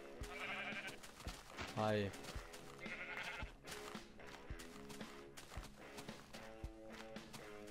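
A sheep in Minecraft gives a single wavering bleat over steady background music and footstep-like clicks, while someone talks briefly.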